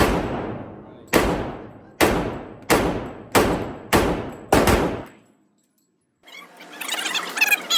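Seven loud, sharp shots from a Tisas ASF 1911 US Army .45 pistol fired at a range, spaced roughly a second apart with echoing decay after each, then silence followed by a short burst of clattering noise.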